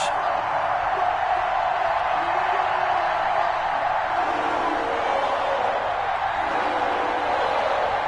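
Stadium crowd in an EA Sports NFL video game, Colts versus Jaguars, a broad, steady murmur of fans with faint swells of cheering, held at a moderate level throughout, with no clear voices on top.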